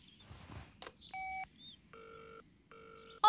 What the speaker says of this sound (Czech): Zavolám Božkovi.